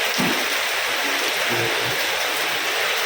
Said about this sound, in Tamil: மழை கொஞ்சம் பெஞ்சிட்டே இருக்குது ஈவினிங் டைமில்